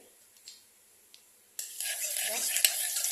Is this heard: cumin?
yes